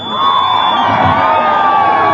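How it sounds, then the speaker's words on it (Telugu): A large outdoor political rally crowd in Hyderabad, loud and sustained, cheering and clapping for Professor Nageswara Rao as a dense wash of voices and applause. "ఎన్నో ఏళ్లగా ప్రజల పట్ల నిలబడి ఉన్న ప్రొఫెసర్ నాగేశ్వరరావు గారికి గట్టిగా చప్పట్లు కొట్టాల్సిందిగా కోరుతున్నాను"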